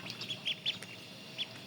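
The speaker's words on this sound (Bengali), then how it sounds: "এদিকে দেখেন এই যে হাঁসের বাচ্চা রাখা হয়েছে" Ducklings kept in a home kitchen give a few high, thin peeps, soft and scattered over a quiet background.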